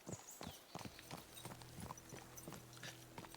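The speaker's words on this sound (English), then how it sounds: "What a lot of horses!" Horse hooves clip-clop in a medieval Bohemian town in Kingdom Come Deliverance 2, several animals walking with irregular, overlapping hoofbeats over a steady low ambient hum, fairly near and moderately loud.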